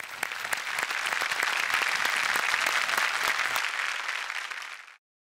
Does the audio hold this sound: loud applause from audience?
yes